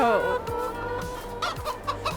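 Chickens clucking in the Farming Simulator 22 video game, a series of short close clucks and squawks recurring in an uneven rhythm, with someone talking over them.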